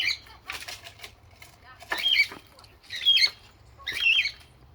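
A cockatiel squawks in alarm at a hawk outside its cage, giving three or four loud, harsh bursts at a steady spacing, close by, with faint wing flutter and low background hum in between.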